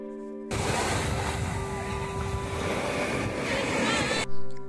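Sea waves wash onto the beach at Puri in the early morning, a loud, steady roar of surf mixed with wind buffeting the microphone, cutting in suddenly and stopping just as abruptly.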